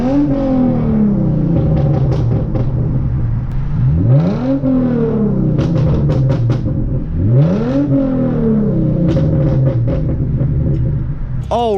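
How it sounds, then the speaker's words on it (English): A Hyundai Genesis Coupe revving while driving, its loud engine rising and falling in repeated sweeps with sharp crackling exhaust pops on the throttle lift, heard from close by with a constant road rumble underneath. "how to make it pop while driving it"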